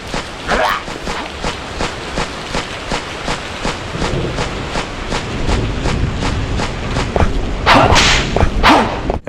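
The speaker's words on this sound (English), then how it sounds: "you control classic Belmont, running and jumping and slashing your whip to attack skeletons with" A whip cracks and slashes again and again in Castlevania on the N64 as the Belmont hero fights skeletons, a rapid, loud run of sharp snaps over busy game sound and music.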